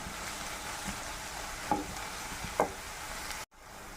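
Onions sauté in a pan for a Kerala onion curry, a soft, steady sizzle heard up close and fairly faint, broken by two light clinks of a stirring utensil before a sudden brief cutoff.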